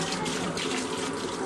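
Cold water runs steadily from a tap for mixing a Coopers Draught home-brew beer kit, a continuous close hiss and splash with no talk over it.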